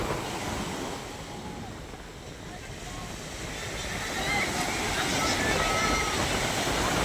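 Strong wind buffets the microphone in a steady broadband roar at a seaside fish terminal in Tanza, Cavite, swelling louder toward the end, with a wash of surf-like noise and no clear voices.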